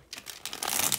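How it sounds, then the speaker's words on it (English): Tarot cards are shuffled by hand, giving a short series of crisp, papery riffling bursts that build and grow louder, close by. "One more good shuffle here for Scorpio."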